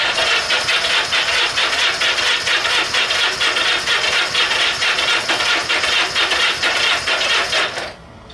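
A Honda Benly motorcycle engine runs loud and close with a steady, fast, buzzing putter for about eight seconds before it cuts out abruptly.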